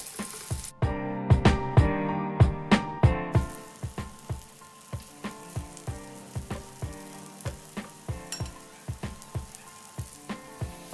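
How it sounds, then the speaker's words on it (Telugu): Pieces of brinjal fry in a pan over a medium-low flame with a constant soft sizzle and regular ticking pops, under music that is loud at first and then quieter. "మధ్యలో తిప్పుతూ అయితే ఫ్రై చేసుకోండి"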